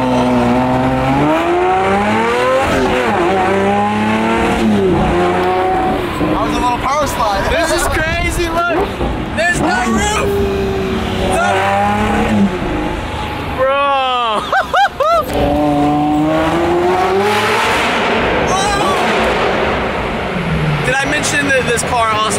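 Lamborghini Murcielago with a fully straight-piped exhaust, heard from inside the car as a loud, constant engine roar with rising revs, under nearly continuous talking from the occupants.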